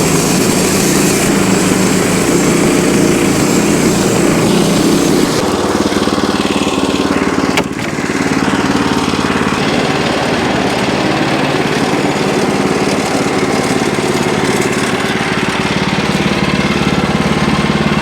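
Gas engine of a Wood-Mizer LX25 sawmill idling steadily as it warms up after starting, a loud continuous rumble close by with a brief dip partway through, no talk.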